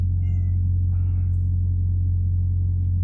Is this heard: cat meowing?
yes